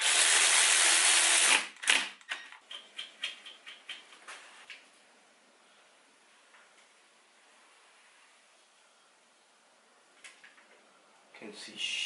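A power tool works on a Nissan 240SX S13 during a 1JZ VVTi engine swap and Fluidampr pulley upgrade: a loud, close whirring burst, then a string of quick ratcheting clicks that fade into quiet before brief noise returns.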